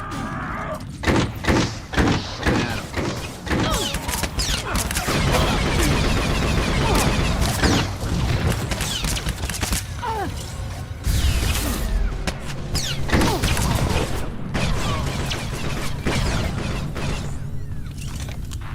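Sustained blaster gunfire in a SWTOR firefight, dense bursts and sharp impacts packed together, loud and close, with clattering mechanical effects and occasional thuds throughout.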